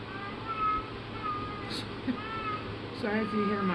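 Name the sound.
cat meowing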